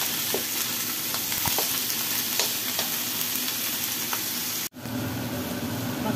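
Steady loud sizzle of braised pork trotter with bay leaf frying in a pan while being stirred, with scattered scraping clicks, a brief break near the end, then sizzling resumes.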